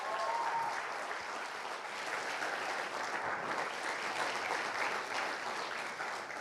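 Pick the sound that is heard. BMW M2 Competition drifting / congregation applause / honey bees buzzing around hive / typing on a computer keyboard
congregation applause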